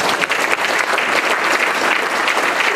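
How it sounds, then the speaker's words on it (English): Audience applause at a community health equity event, a loud, close burst of many hands clapping continuously for a few seconds. "Can we clap for that?"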